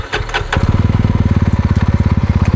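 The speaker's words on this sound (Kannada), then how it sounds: "Exhaust note ಕೇಳಿಸ್ಬಿಡ್ತೀನಿ." A Yezdi Roadster Red Wolf Edition motorcycle cranks and fires, then settles into a loud, close, evenly thumping exhaust idle.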